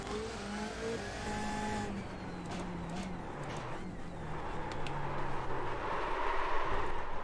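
A BMW GT race car in iRacing drops through engine notes under heavy braking, with descending downshift tones, faint tire noise and a rising engine roar as it exits the corner.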